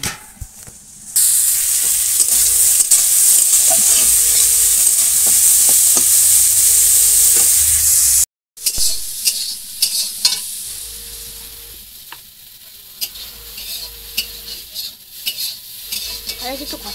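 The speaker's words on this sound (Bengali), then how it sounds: "ওখানে উচ্ছে আলু ভেজে নেবো।" Bitter gourd and potatoes fry in a pan, sending up a loud, steady sizzle with stirring scrapes. The sound cuts off briefly, then returns as quieter crackling with occasional utensil clatter.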